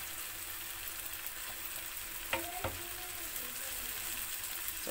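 Eggs sizzle in a frying pan alongside parboiled vegetables, a steady soft hiss throughout with a couple of brief clinks or stirring knocks midway.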